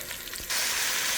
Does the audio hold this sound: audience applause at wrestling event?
no